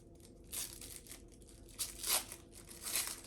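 Packaging for a pair of Voogue Me glasses is torn and crinkled open in short bursts of ripping and rustling plastic or paper, close up and fairly quiet, with pauses between pulls.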